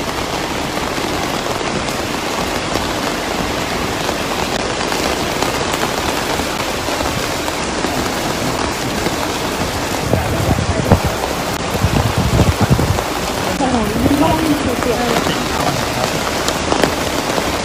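Heavy rain pours steadily and loudly on surfaces outdoors, a constant dense hiss with spattering drops. A voice speaks faintly beneath it partway through.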